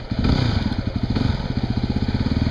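A Yamaha WR250R motorcycle engine runs close by on a test ride, a loud, rapid, even thumping beat that briefly swells as the throttle opens, then settles into a steady pulsing drone.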